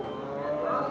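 A cow moos once at a busy cattle market, a long, close, low bellow that swells slightly toward the end and fills the whole moment.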